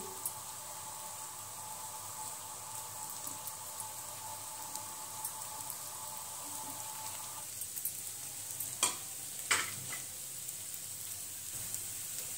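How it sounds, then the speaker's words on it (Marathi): Aluvadi, rolled colocasia leaf slices, shallow-fry in oil in a pan with a soft, steady sizzle, and a few light clinks of a utensil come near the end. "क्रिस्पी अशी फ्राय करून घेऊया। जेवढ्या पॅन मध्ये राहतील तेवढ्या आपण फ्राय करून घेऊ।"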